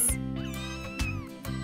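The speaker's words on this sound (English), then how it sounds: "Three beautiful kittens." Newborn kittens in a children's cartoon give thin, high meows, a couple of brief cries over a sustained musical backdrop.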